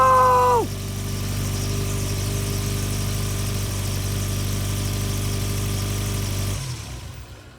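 A turbocharged Subaru GC8 making over 411 wheel horsepower idles on its first startup with an exhaust leak, a loud, steady low rumble that follows a brief starter whine and then cuts off near the end.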